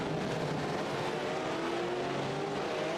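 Race car engines from the iRacing game at WeatherTech Raceway, exiting a turn onto the front straight with a steady droning roar and rising pitch, continuous and moderately loud with no voice over it.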